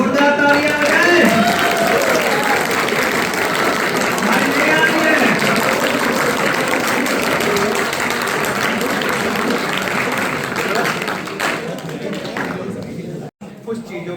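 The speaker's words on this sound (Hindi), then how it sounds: "जोरदार तालियां बजाएं" An audience applauds at an award ceremony in Ayodhya, a sustained patter of many hands mixed with crowd murmur and a voice speaking over it, cutting off abruptly near the end.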